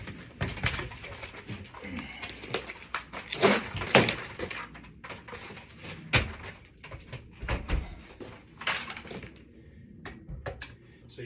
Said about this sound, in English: So I'm going to stand it up and hang it on that hang screw